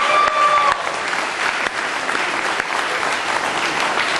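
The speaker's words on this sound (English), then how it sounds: "So give yourselves a round of applause for making this a success." A crowd at a Buena Vista event with Governor Tim Kaine breaks into loud, sustained applause, a dense wall of clapping from start to finish.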